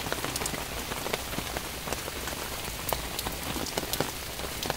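Steady rain falls on a surface outdoors, a dense, even patter with scattered sharper drops, moderately loud and continuous with no voices.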